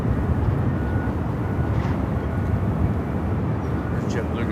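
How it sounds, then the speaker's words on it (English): A JetBlue airliner taking off heard as a steady, fairly distant low rumble of jet noise, broad and even throughout with talk faintly mixed in. "There's JetBlue going right now"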